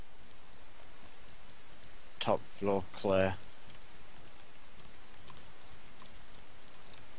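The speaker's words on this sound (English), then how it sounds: "it's just started raining outside." Steady rain falling outside a building in a video game, a constant soft hiss running throughout, with a short burst of speech near the middle.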